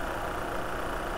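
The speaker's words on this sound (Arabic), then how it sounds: "وهذا هو صوت المحرك في وينجل" Engine of a 2024 Great Wall Wingle 5 pickup idling, a steady, even drone held at a constant level throughout with no voices over it.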